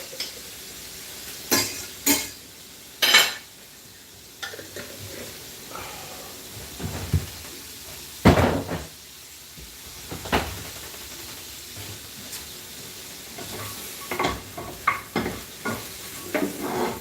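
Garlic sizzles softly in a pan beside a wok while being stirred, with a low hiss underneath and several sharp clanks and scrapes of a utensil against the pan at irregular intervals.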